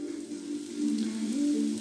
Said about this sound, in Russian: Так, блинчики пекутся.